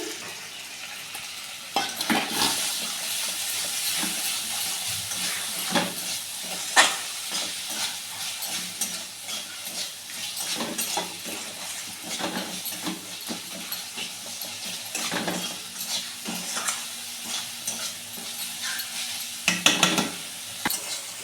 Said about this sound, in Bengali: মশলাটা প্রায় কষা হয়ে গেছে